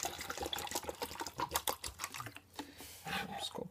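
Tap water poured over a carbon steel knife blade makes faint, irregular splashing and trickling, broken into uneven bursts with short pauses.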